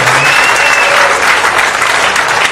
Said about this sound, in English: Let's give him a one more round of applause.